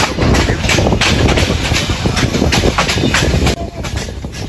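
Padma Express train running on rails between Rajshahi and Dhaka, a loud steady rumble with rhythmic clickety-clack of wheels over rail joints, heard close from onboard without talk.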